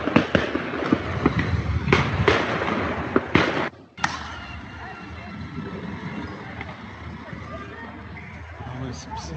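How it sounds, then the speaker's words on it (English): Shots fired during a riot scene in France, sharp cracks and bangs popping repeatedly over a noisy crowd and street din, with a voice talking over it. "Waouh, c'est une scène de guerre. Oh, ça tire, ça tire."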